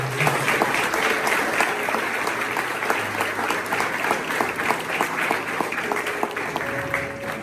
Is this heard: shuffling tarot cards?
no